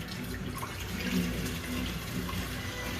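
Strained chicken broth is poured back into a cooking pot, giving a continuous splashing, trickling flow of liquid at close range, moderately loud and uninterrupted, with no voices.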